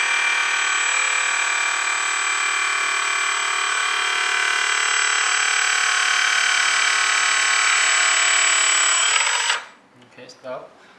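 Electric support legs on a 1/14 scale LESU metal hydraulic dumper trailer lowering, a steady high motor whine running continuously for about nine seconds before cutting off abruptly, followed by a few faint clicks.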